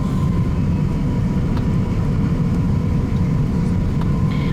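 Cabin of an Iberia Airbus A350-900 just after takeoff from London Heathrow at night: loud, constant low-frequency engine and airflow roar filling the cabin, steady throughout with faint clicks.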